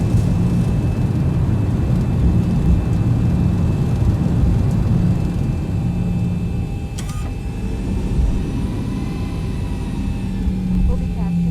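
Boeing 737 taxiing in the X-Plane 11 flight simulator, a steady low engine rumble and hum with faint tonal whine, continuous and even throughout, with no pauses.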